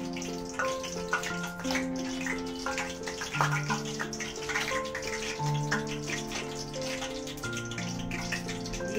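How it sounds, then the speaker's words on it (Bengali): Battered okra fritters sizzle in hot oil as they are fried at home, a continuous bubbling, crackling hiss heard up close with irregular spattering pops and no talking over it. "আমি তেলের মধ্যে ছেড়ে দেবো। তেলটা গরম হয়ে গিয়েছে।"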